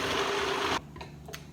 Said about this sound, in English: And blend until combined.